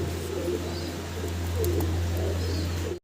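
A pair of Polish Lynx pigeons coo softly in a loft, low rolling coos over a steady background hum, close and without talk.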